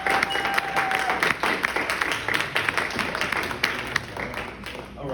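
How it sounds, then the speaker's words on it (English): An audience applauds after a speaker is introduced at a newlywed brunch, a steady wash of clapping with a thin tone briefly sounding early on and light background voices. "Round of applause, please, for George Papageorge."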